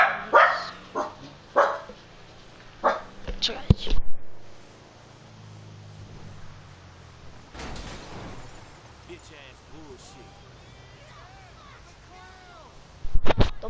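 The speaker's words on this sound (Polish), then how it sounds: "już musiałem psa uspokoić" A dog barks sharply several times in quick bursts, then falls quiet, and faint whimpering whines come near the end, close and loud, with some background noise in between.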